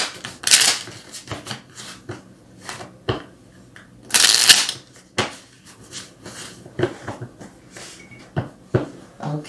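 Tarot cards are shuffled up close: crisp riffling bursts and soft flicking slides come in an uneven rhythm, with quiet gaps between handfuls.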